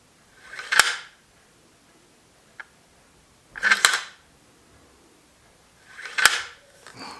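Bolt of a Tikka T3 Deluxe rifle cycled three times, each a quick close metallic slide and click, evenly spaced with quiet gaps and no talk.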